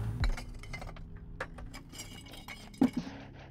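Glass bottles clink and chink as they are gathered from desert ground, scattered light taps building to one sharper clink near the end, outdoors and close.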